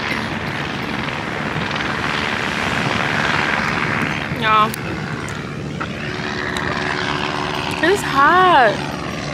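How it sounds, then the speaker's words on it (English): Helicopter flying overhead at a beach makes a steady broad rotor roar beneath the wind, with someone talking close by and other voices joining toward the end. "there's a helicopter."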